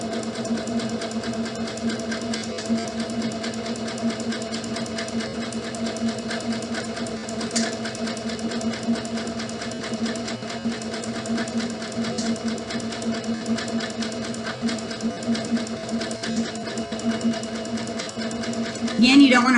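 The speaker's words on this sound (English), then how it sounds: "I'm just going to sew all the way down." Domestic sewing machine stitching fabric edges together for a scrunchie, a steady fast mechanical whir running continuously for the whole stretch, close and even, ending with a brief louder clatter.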